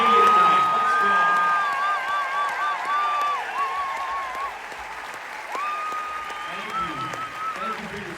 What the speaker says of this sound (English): Let's cheer for anybody who served our country.